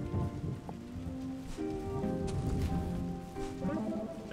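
Rain falling in the video game Islets, a soft steady patter under light game music tones, moderately quiet and continuous without talk.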